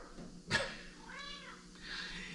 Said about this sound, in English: I just had my buddy meowing at the door